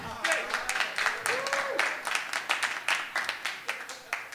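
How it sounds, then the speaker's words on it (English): An audience claps in a brief round of applause at a Bitcoin conference talk, a burst of quick, moderately loud claps that fades out over a few seconds. "So now I know how to get an easy round of applause."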